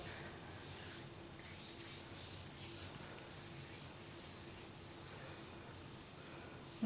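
Hands rubbing airbrush leg cream down the legs, a steady soft brushing friction that continues evenly throughout, close and alone with no talking.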